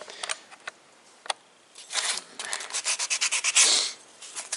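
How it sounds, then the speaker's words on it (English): Hand sanding off the rough edges and small protruding bits of a small workpiece, a few isolated scrapes at first, then a run of quick, rhythmic rubbing strokes, close and fairly quiet with no talking. "Now I'm just going to sand this one off as well. Just get all the edges nicely."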